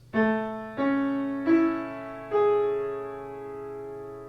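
Four sustained piano-like notes enter one after another, about every second, stacking into a ringing major seventh chord that lingers and slowly fades.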